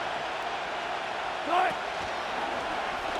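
Stadium crowd roaring steadily in Madden NFL 25 ahead of a third-down play, a broad wash of noise with a brief swell, under a commentator's voice.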